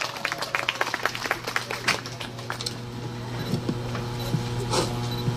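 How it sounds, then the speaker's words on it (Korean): Scattered clapping from an audience at a city gender-equality festival welcoming a speaker, with sharp individual claps at first that thin out into sparse taps over a low background hum. "큰 박수로 환영 부탁드립니다."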